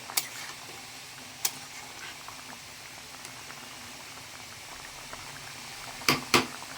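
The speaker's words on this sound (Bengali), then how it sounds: "ঝোলটা ফুটছে," Fish curry broth with tengra fish bubbles in a pot, a soft, steady simmer with a few sharper pops near the end and no voices.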